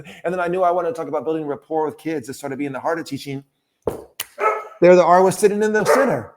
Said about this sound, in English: That's my dog thinking that I just knocked on the door.